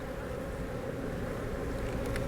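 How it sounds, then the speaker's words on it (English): A dense, continuous buzzing of many honey bees during a small swarm cut-out, steady and enveloping, with no voices. "There was so many bees in here"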